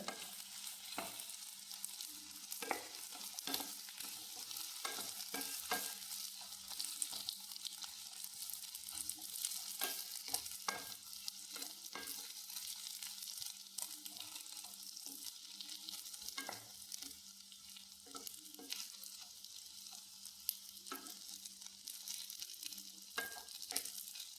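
Grated coconut being stirred into a frying pan of carrot-based snack mixture, with a steady close sizzle and repeated scraping stir strokes throughout, no voices.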